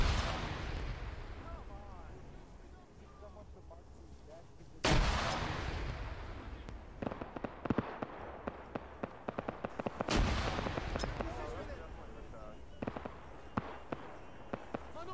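Grenade explosions in the video game Arma 3, two sharp loud blasts with rumbling decay several seconds apart, followed by scattered gunfire pops, with faint voices underneath.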